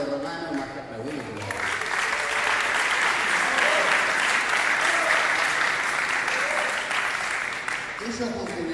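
Studio audience at a televised series presentation breaks into sustained applause, a dense wash of clapping that swells after the first second and holds steady to the end, with a voice speaking briefly at the start and fading back in near the close.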